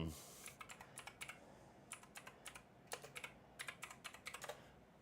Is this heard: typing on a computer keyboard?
yes